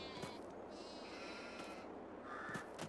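Sheep bleating in a pen in the video game Farming Simulator 22, several soft overlapping bleats at a distance over a steady low background hum.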